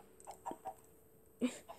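In Minecraft, a chicken-type mob lays an egg with a soft pop, heard as a few faint clucks and a brief plop in an otherwise quiet scene.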